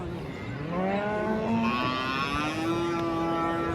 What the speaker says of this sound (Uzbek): Mana shu sigirlar